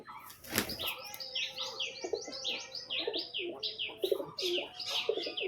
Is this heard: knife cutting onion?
no